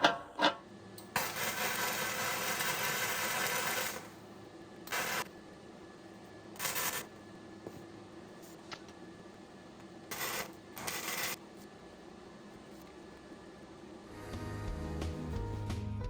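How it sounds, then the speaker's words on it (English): Steel handles are tack welded in place on a backhoe attachment for a 1959 Massey Ferguson tractor, a series of short buzzing, crackling arc bursts of a second or several, separated by quiet pauses, close by. "I'm gonna get ready to tack weld them in place"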